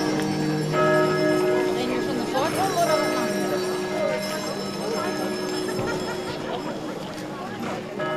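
Horses' hooves clip-clop steadily amid a Saint Stephen's Day horse blessing, with bells ringing, carriages and a murmuring crowd of people talking throughout.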